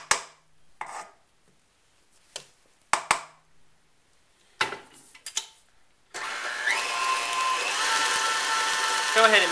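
Electric mixer switching on to mix cake batter for petits fours after a few scraping knocks against the bowl, then a steady, fairly loud motor whir running continuously to the end.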